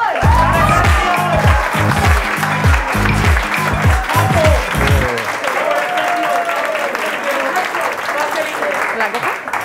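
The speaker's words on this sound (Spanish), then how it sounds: "Vamos a darle otro fuerte aplauso a Sergio" A school-show audience claps loudly, cheering and whooping, with a strong rhythmic beat of music under the first half before it cuts out, leaving sustained crowd applause and shouts to the end.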